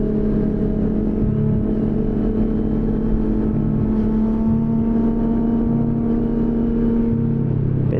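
CFMOTO NK400 motorcycle engine while riding, a steady loud hum with a constant tonal drone and low rumble, the pitch shifting slightly as it pulls in gear.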